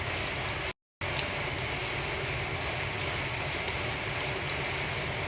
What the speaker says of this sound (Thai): ตอนนี้ที่เอ่อลอสแอนเจลิสฝนตกครับ